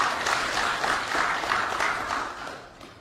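Steady applause from an audience at a parliamentary hearing, a dense wash of many hands clapping at once that holds for about three seconds before easing off slightly.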